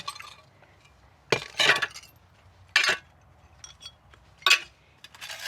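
Broken glass from storm damage being gathered by a gloved hand in a garden, four or five separate close clinks and scraping crunches with quiet pauses between them.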